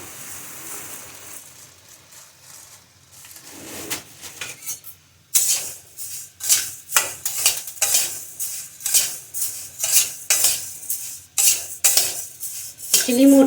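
A large kadhai set on the heat for roasting jowar grain gives a close, repeated metallic clatter and scraping that starts quietly and turns into busy, rhythmic stirring strokes, with no voices.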